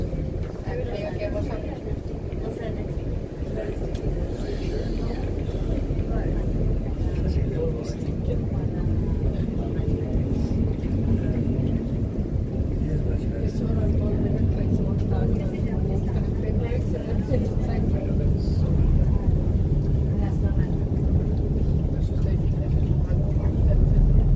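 A steady low engine drone runs throughout, loud and continuous, like a boat motor idling nearby at Everglades Holiday Park, with voices talking over it.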